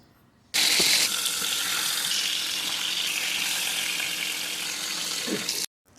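Rui fish fries in hot oil in a kadai, flipped partway through, giving a loud, continuous close sizzle that starts abruptly and cuts off near the end, with no voices.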